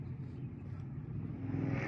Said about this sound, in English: Oh, a car just drove in front of me, see?